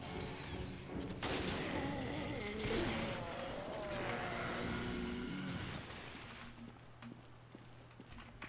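Gunfire in Resident Evil: Revelations comes as loud, dense bursts of shots with mechanical clatter for several seconds, then eases into quieter game ambience with an occasional single shot.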